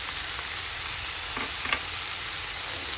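Chili powder and curry powder fry in a pan, giving a continuous even sizzle with a couple of faint stirring taps, close and without voices.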